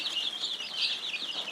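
Chickens cluck softly in a short burst, with faint, high warbling calls from the flock close by and nothing else over them.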